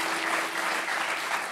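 Studio audience on a French evening TV talk show applauding a guest, a dense, steady burst of clapping heard alone with no talk.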